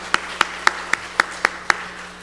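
A church congregation claps in praise of the choir conductor during a worship service, sounding as seven sparse, evenly spaced hand claps heard alone, like a small room's scattered response.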